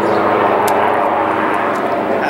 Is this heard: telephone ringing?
no